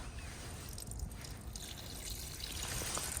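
Water drains from the fresh or waste tank valve of a 2025 Auto-Trail V-Line 610SE motorhome, a steady trickling and splashing flow with faint dripping, fairly quiet and without talk.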